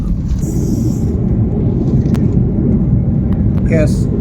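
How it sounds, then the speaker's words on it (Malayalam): Airliner touching down at an airport in Oman, heard from inside the cabin: a loud, constant low roar and rumble throughout, with a couple of short high chime-like tones. "വിമാനം നിലം തൊട്ടു ഞങ്ങൾ പുറത്തിറങ്ങി"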